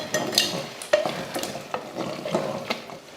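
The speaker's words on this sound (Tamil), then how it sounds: "சேர்த்து அதையும் கலந்துருவோம்." Chicken masala being stirred in a frying pan, with a spoon scraping and clinking in a steady rhythm over a continuous close sizzle, heard alone with no talk.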